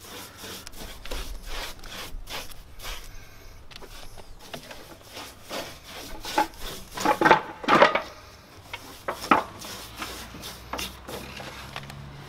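Stain rubbed by hand onto a reclaimed wood cladding sample piece, giving repeated soft scrubbing strokes at close range that build to a few louder, brisker passes midway, with no talking.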